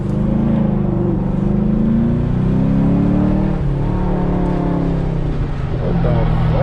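Chevrolet Camaro SS with an X-pipe exhaust, fitted at a muffler shop, gives a loud, steady low engine roar as it pulls away and accelerates, close by.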